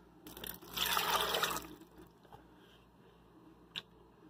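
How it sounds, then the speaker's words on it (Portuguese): Water poured from a container into a blender jar holding chopped coconut, a short splashing gush of about a second, then fading to quiet with a small clink near the end. "Vamos colocar 300 ml de água para nós bater o nosso coco."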